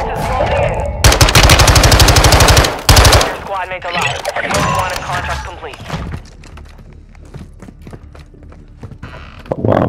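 Rapid bursts of close automatic gunfire in Call of Duty Warzone 2 on Ashika Island, loud and sustained, followed by scattered shots and a voice speaking over them.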